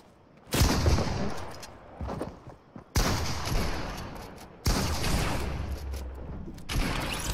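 Gunfire rings out in a shooter video game, three loud, dense bursts of rapid shots and booms separated by brief quieter gaps with scattered clicks and mechanical sounds.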